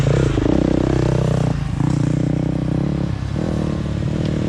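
A motocross motorcycle riding the Ironworks Motocross track, recorded up close from the rider, with a loud steady engine drone whose pitch rises and dips as the throttle changes, plus some clatter.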